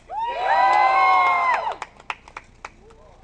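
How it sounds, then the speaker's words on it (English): A live audience bursts into loud, sustained cheering and whooping for about a second, then breaks off into a few scattered claps and shouts that quickly fade. "cheer as loud as you can. 1, 2, 3."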